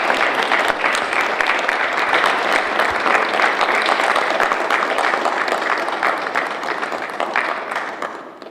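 Audience at a Belgian palaeontology award ceremony applauding the honoree, loud, dense clapping from a sizable crowd with audible individual claps, holding steady for several seconds and tapering at the end.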